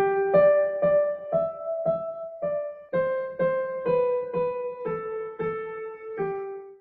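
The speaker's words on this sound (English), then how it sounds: "Or here's it playing Twinkle Twinkle Little Star on the piano." A simple AI-generated piano melody of Twinkle Twinkle Little Star, evenly spaced single notes played cleanly and close, each note ringing briefly before the next.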